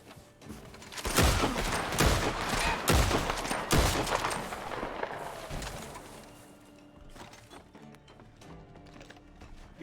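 Gunfire in the Red Dead WildRP roleplay server: a rapid volley of loud, close gunshots cracks out in the first few seconds, then thins to scattered, quieter shots and ambient outdoor noise.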